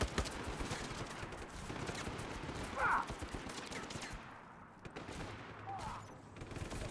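Gunfire from several weapons in Just Cause 3 runs steadily throughout, dense overlapping shots at moderate distance forming a continuous fusillade with a brief swell near the middle.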